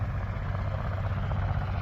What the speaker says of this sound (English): Out here early this morning, and the choppers are going.